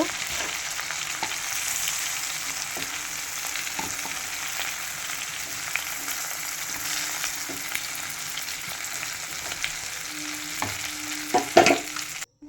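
Prawns fry in a pan with a steady, even sizzle throughout, broken by occasional stirring taps and scrapes, plus a louder clatter near the end.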